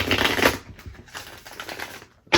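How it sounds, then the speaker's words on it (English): Tarot cards being shuffled by hand close up, a dense run of papery riffles and flicks with brief pauses and no talking. "I just have to shuffle these cards a little bit more"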